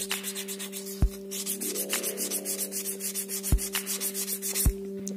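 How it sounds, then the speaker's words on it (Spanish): Steady rubbing and scraping of fine emery cloth by hand on a Chevy Nova brake caliper, back-and-forth strokes under a low constant hum, with a few sharp knocks. "agarro una tela de esmeril muy finita, bien fina, una tela de esmeril bien fina"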